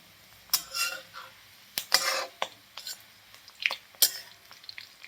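Fried almonds being lifted out of a pan of hot oil with a metal utensil while making sheer khurma, several sharp clinks and scrapes of metal on the pan separated by short pauses, close and clear with no talk.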